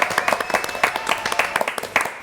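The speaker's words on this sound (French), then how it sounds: "Allez, on applaudit." Audience applause on a French variety radio-style show, a steady patter of many hands clapping at moderate volume for a couple of seconds, with faint voices mixed underneath.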